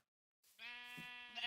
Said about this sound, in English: Sometimes sheep are a little stubborn when you're pushing them around